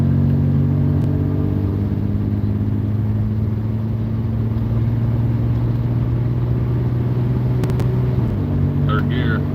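A 1974 Volvo car pulling away in second gear, its engine giving a steady mid-pitched drone and low rumble from inside the cabin, with a brief soft click near the end.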